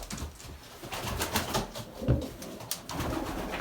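A pigeon gives soft, low coos close by, set against a faint background of other birds and ambient noise.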